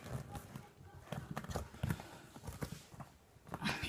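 Poor-quality scissors cutting into football material, giving a close series of uneven snips and crunching cuts in an irregular rhythm.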